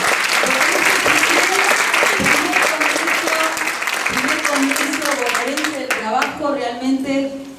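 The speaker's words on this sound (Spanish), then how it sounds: "La verdad que hay que aplaudir a este panel." A conference audience at a provincial labour congress forum applauds a panel, loud, dense clapping from many hands that runs throughout while a voice speaks over it and grows clearer toward the end.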